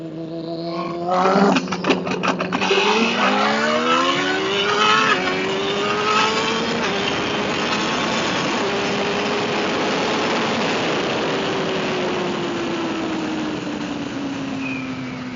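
Suzuki Hayabusa motorcycle making a speed launch at 5,500 rpm, with a loud engine note that rises and then pulls into a long, steady high-revving run as the bike accelerates away.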